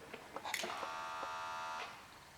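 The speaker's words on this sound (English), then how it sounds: "That was the sound of homing right against the stop." A stepper idle air control valve on an LS truck engine run by a MegaSquirt 2 homes against its stop, giving a few quiet clicks and then a steady electric buzz lasting about a second before it cuts off.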